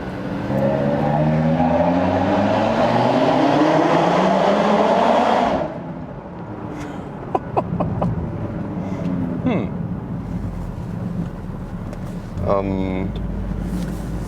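A 2017 Audi TT RS with its 400 hp five-cylinder engine roars loudly through a tunnel, the booming engine note sustained and then dropping off abruptly to a quieter cabin hum with faint clicks and a voice speaking.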